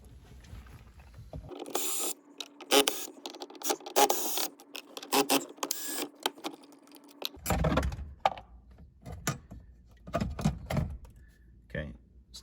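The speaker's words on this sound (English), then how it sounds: "now there's gonna be 4 Phillips head screws that we need to remove." Phillips head screws are backed out of a GMC Yukon center console lid, giving repeated close clicks, ratcheting rasps and small knocks of plastic and metal, in bursts with short pauses.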